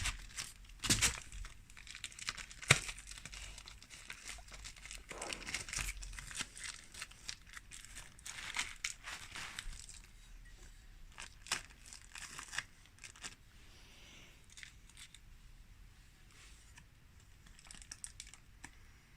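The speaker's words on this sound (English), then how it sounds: "So this is just a bit of aluminium foil tape." A strip of aluminium foil tape crinkles and crackles while being handled near a 1995 Honda CBR 600 F3 motorcycle, with irregular close crinkles and taps, busier early and thinning out later.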